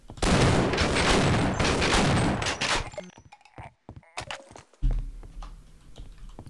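Dense, rapid gunfire in Half-Life: Opposing Force fills the first three seconds loudly, then breaks into scattered shots and clicks before a final burst and quieter game ambience.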